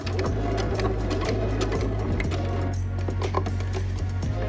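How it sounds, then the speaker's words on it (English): A sewing machine stitches a seam on a denim dress, starting with a backstitch: a loud, steady motor hum with fast, even needle clatter running continuously from start to finish, with no voices. "we're gonna drop our needle down and just again make sure everything's flat. Back stitch at the beginning."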